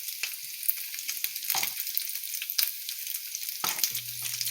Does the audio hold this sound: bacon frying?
yes